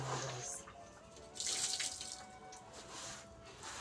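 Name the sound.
water running while rinsing soaped items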